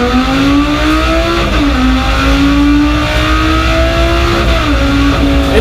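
Powerful engines of a Dodge Challenger drift car and a Lamborghini Sesto Elemento roar loudly and continuously at the race start, pitch climbing through gear changes with two brief dips as they shift.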